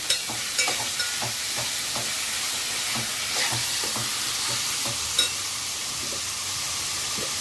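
Egg masala gets stirred in a hot pan, a steady soft sizzle running under a few light scraping strokes and a couple of sharper knocks from the spoon.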